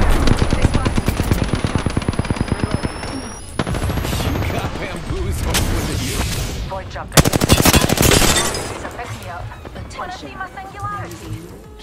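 Rapid automatic gunfire in the Apex Legends battle royale game, a dense burst of repeated shots followed by further volleys and impacts, with in-game voice callouts heard over the shooting.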